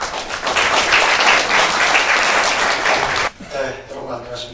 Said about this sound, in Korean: 여러분 큰 박수로 맞이해주시기 바랍니다